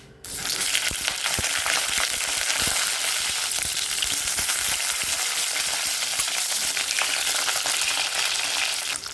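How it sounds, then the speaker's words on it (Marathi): Eggplant pieces frying in oil in a pan, a dense continuous sizzle that starts abruptly and holds steady and loud for several seconds with faint stirring clicks, close up, no talking. "वांगी आपल्याला 5 ते 6 मिनिटं चांगली तेलामध्ये परतून घ्यायची आहेत।"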